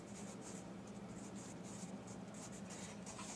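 Pen or pencil writing in a notebook, a faint, steady scratching with soft rhythmic strokes, heard close and quiet with no talking.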